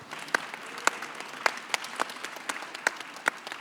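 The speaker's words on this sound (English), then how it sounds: "Give them a big round of applause, would you please?" Sparse applause at a traditional arts performance event, a small audience clapping in scattered, distinct hand claps with an uneven rhythm, fairly close and moderately loud.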